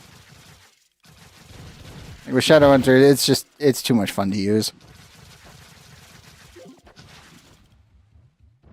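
Rotary cannon from a video game, the Gao 9 modeled on the A10 minigun, roars in a loud sustained burst of about two and a half seconds, briefly broken mid-burst, with a player talking before and after.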